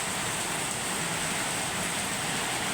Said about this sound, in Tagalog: Walang tigil ang buhos ng ulan.